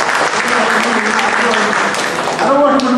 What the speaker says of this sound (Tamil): எல்லாரும் ஆசீர்வாதம் பண்ணணும் எப்படின்னா உங்களுடைய கரகோஷத்தின் மூலமாக இந்த